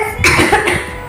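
A single loud, close cough breaks into two or three rough, throaty bursts over about a second.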